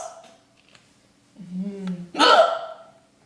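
A person hiccups twice: a short voiced catch, then a sharper, louder hiccup a moment later, close to the microphone in a quiet room.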